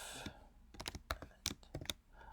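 Quiet, close keystrokes on a computer keyboard while a hashtag is typed, a short irregular burst of crisp clicks with brief pauses between them.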